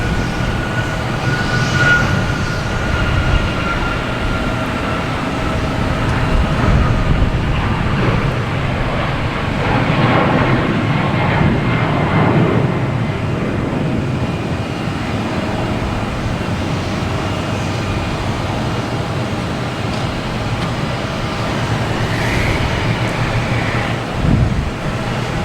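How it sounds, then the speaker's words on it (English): An Alaska Airlines Boeing 737 MAX 9 passes near Boston Logan Airport, its steady jet roar broad and sustained throughout, swelling slightly mid-pass before holding at a constant level. "737 MAX 9."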